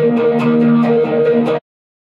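Electric guitar played through an overdrive effect combined with distortion, a loud sustained crunchy chord with a few picked accents, cut off abruptly before falling silent.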